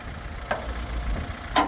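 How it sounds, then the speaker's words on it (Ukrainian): A 2010 Kia Ceed 1.4-litre naturally aspirated petrol engine with manual gearbox idles steadily with a low rumble, joined by a couple of short mechanical clicks or taps. "Ви двигун чуєте?"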